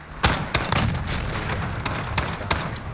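Bursts of gunfire from the video game Modern Warfare: several sharp, loud shots in quick uneven succession over a continuous rumbling backdrop of battle noise.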